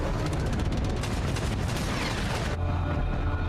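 Dense naval battle gunfire and booming explosions from a destroyer torpedo scene in the war film Greyhound, loud and continuous with rapid overlapping shots and heavy blasts that thin out slightly near the end.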